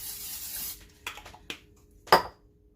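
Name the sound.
cooking spray on loaf pans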